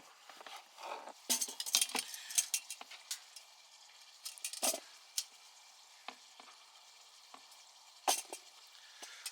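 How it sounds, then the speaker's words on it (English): Quiet sizzling from chicken frying in a pot at a woodland campsite, with scattered clinks and scrapes of a utensil stirring, some sharper taps standing out against the soft frying hiss. "You can hear that chicken sizzling away."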